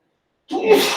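One sudden close sneeze erupts in a classroom after a moment of silence, sharp and breathy.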